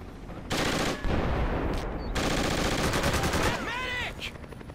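Bursts of automatic gunfire and scattered shots fill a Project Reality co-op battle scene, loud and near, with dense rattling volleys running almost continuously and a brief lull partway through.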